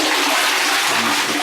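A toilet flushes in a newly renovated apartment bathroom, a loud steady rush of water running close by and alone for the whole stretch.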